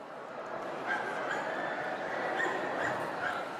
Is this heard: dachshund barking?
yes